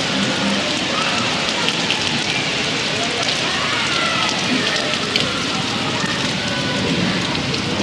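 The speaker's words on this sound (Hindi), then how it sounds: "बारिश तो शदीद वाली हो रही है" Heavy rain pours down steadily, a dense continuous hiss of drops close by with no pauses, loud and unbroken throughout.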